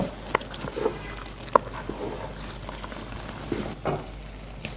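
Boiled cabbage for a Bengali cabbage ghonto is stirred into sautéed spices in a pan, with a low frying hiss and a few sharp clinks and scrapes of the spoon, and no voices.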